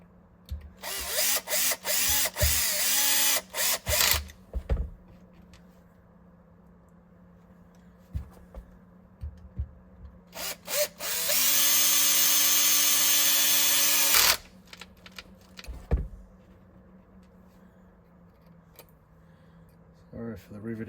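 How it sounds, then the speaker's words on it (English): A power drill drives screws into an RC car tyre in two loud, close bursts of high-pitched whirring, with short stuttering pulses in between. Under the work there is a constant low hum and some clatter of handling. "do a few screws up to see how we go."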